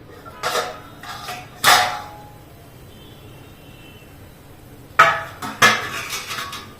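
A metal lid is set over a pan of moong dal halwa, producing a few sharp clanks and scrapes close by, separated by a quiet pause, then more clattering.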